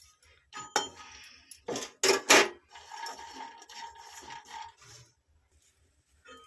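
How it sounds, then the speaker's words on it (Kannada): Grated coconut being roasted in a pan: irregular scrapes, rasps and clinks of a utensil against the pan, some sharp and loud, others softer, with brief quiet gaps between strokes. "ಫಸ್ಟ್ ಕಾಯಿನ ಉರ್ಕೊಂಡ್ಬಿಡೋಣ"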